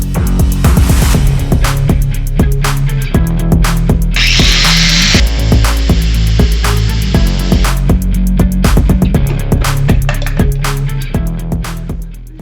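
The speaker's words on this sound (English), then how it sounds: "grind off those nuts" A power tool grinds nuts off the reverse light housing of a 2003 VW Beetle. The grinding is loud, close and continuous, broken by repeated sharp clacks and a harsh burst of high grit partway through.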